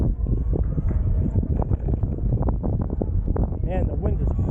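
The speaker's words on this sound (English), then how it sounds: "Man, the wind is horrible." Strong wind buffets the microphone on a beach during an ride on a DYU T1 portable folding e-bike, a steady loud rumbling roar running throughout with a brief higher whine near the end.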